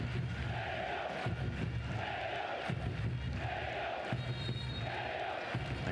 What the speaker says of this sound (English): The crowd chanting his name.